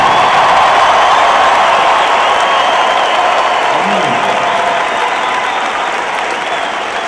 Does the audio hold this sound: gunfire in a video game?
no